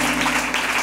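Congregation applause at a church worship service, a dense, steady wash of clapping from many people filling the whole brief moment with no pause.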